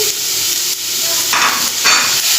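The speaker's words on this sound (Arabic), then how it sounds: "شويه زيت هدخل البصل ده كده" Chopped onion hitting a little oil in a frying pan, a continuous bright sizzle and hiss that swells slightly as the pieces settle, close and fairly loud with no talk.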